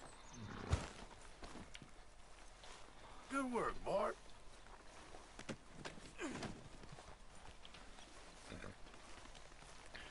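Horse hooves clip-clopping in the video game Red Dead Redemption 2, soft irregular steps with a snort or whinny, heard under character dialogue.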